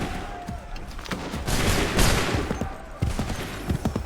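Musket volleys crack out in Assassin's Creed 3, a dense fusillade of overlapping shots rolling through the middle of the clip, with another burst of close reports toward the end, loud and sustained with little space between shots.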